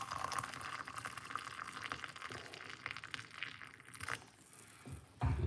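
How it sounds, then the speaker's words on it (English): Hot water pours into a cup holding cloves, a continuous splashing trickle with a soft filling gurgle, fairly close and unaccompanied by speech. "we're going to just pour some hot water into it."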